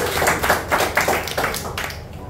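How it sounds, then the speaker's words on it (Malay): Brief burst of clapping for a student named Iskandar in a classroom teaching practicum, several people clapping together in an uneven patter that fades out over a couple of seconds. "Tepukan untuk Iskandar."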